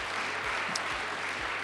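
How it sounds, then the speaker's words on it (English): Applause from an audience at an MBA awards and business forum, a steady wash of clapping heard briefly with a few low thumps beneath. "give a really good round of applause"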